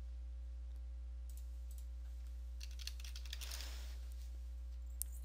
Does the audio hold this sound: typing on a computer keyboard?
yes